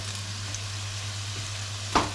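Crunchy eggplant pieces fry in a pan with a steady, even sizzle over a low hum, and a sharp stir or scrape rises near the end.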